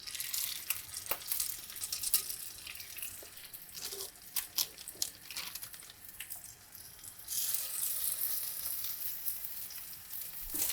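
Continuous crackling sizzle of Cajun salmon burgers frying in hot oil over medium-high heat, with scattered pops and spits, steady throughout and up close.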